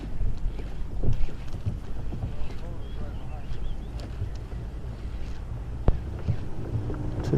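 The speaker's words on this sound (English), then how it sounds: "That wind's been blowing in." Wind blows steadily across open water around a bass-fishing boat, a continuous rushing with microphone buffeting, and people talk intermittently over it.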